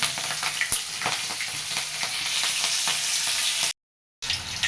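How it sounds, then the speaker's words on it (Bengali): Green chilies and cumin seeds sizzle in hot oil, a close crackling fry with a few sharp pops and stirring noises, briefly cut to silence near the end before the sizzle resumes. "তেল গরম হয়ে গেছে, এতে কাঁচামরিচ"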